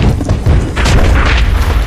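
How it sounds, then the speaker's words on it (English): A loud attack sound effect from the Pokémon TCG Online video game, heard as a dense, booming blast that carries on without a break for nearly two seconds and dominates the mix. "That attack was really loud."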